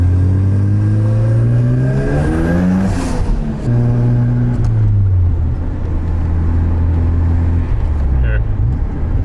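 A turbocharged, boosted car engine revs up and down close by, its tone rising and falling with throttle over a steady drone, with voices talking over it.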